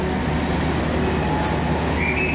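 Fajar Utama Solo passenger train rolling along after departing Purwokerto, a steady low rumble of wheels and carriages with a faint high squeal toward the end, continuous and moderately distant.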